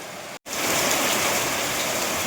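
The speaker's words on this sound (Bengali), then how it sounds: "প্রচণ্ড পরিমাণে বৃষ্টি হচ্ছে" Heavy rain pours down steadily in a dense, hissing roar after a brief moment of silence at the start.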